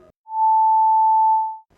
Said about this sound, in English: Start with a sine wave